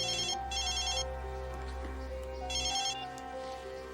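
An electronic telephone ring sounds in two short bursts with a pause between, over a low steady hum.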